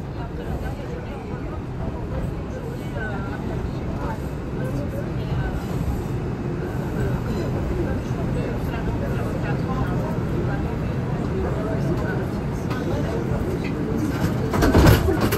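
An IRT R142 subway train runs between stations on the line from Flatbush Avenue–Brooklyn College, giving a steady, loud rumble and rattle throughout with a brief louder swell near the end.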